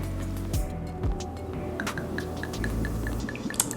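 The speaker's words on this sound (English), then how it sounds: "Gurgle, gurgle. You hear the gurgle?" Vodka is poured from a bottle into a measure while a cosmopolitan is mixed, making a soft, irregular glugging gurgle with a few clinks and drips. The sound is fairly quiet and there is no talk over it.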